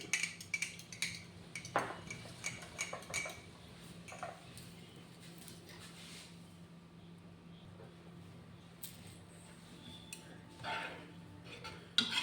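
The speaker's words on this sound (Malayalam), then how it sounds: "കട്ടയില്ലാണ്ട് ഒന്ന് മിക്സ് ചെയ്യാം" A spoon stirs custard powder into milk in a bowl, clinking in irregular light taps against the side, close by and fairly quiet.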